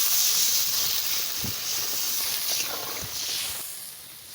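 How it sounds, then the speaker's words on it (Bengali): Water poured into a pan of sizzling spiced chicken and potato curry sets off a loud, steady steaming hiss that hangs on for several seconds, slowly easing, with faint clinks underneath. "এবারে আমি জল দিয়ে দিচ্ছি"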